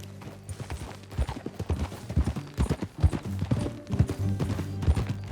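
Horse hooves clip-clop at a steady riding pace in Red Dead Redemption 2, with rhythmic, fairly close thuds and faint background ambience underneath.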